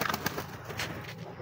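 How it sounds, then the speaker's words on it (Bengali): A Bombay pigeon coos softly in a brief, low, murmuring call. It is fairly faint and sits among background noise from a nearby main road. "এই যে আমার বোম্বাই কবুতরটা"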